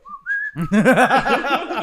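A person whistles indoors: a couple of short high notes, then a lively warbling run of wavering tones, close and clear with no talking.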